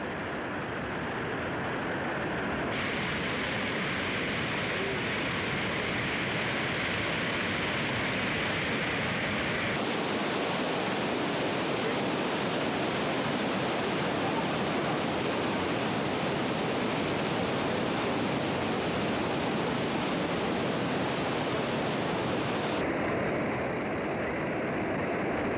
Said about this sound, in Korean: 브라질에서는 이구아수 폭포 전체를 탁 트인 전망으로 볼 수 있다.